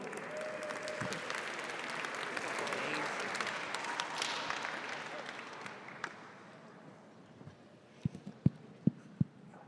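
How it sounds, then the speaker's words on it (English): An audience at a Kimball High School event applauds a school team, a dense sustained clapping that gradually fades, ending with a few scattered sharp claps. "give a round of applause"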